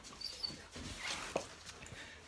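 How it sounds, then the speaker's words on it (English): Faint, quiet dog sounds, a few soft whimpers and snuffles close by over low background noise. "There's the dog man."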